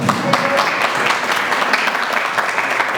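Applause from a congregation at a church service, a dense steady clapping from many hands, fairly loud and continuous throughout with no talk.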